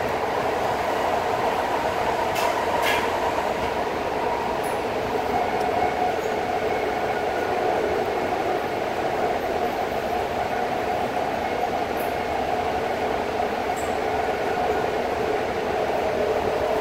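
A BART subway train between Fremont and Lake Merritt rumbles and roars steadily from inside a car, with faint squeals and metallic clicks over the constant wheel noise.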